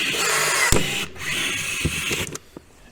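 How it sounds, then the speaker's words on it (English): A power drill bores through a plastic snowmobile skid plate on a 2023 Ski-Doo Expedition SWT to take a rivet, a steady close whine with a few brief knocks, then the motor cuts off near the end. "So let's get that drilled."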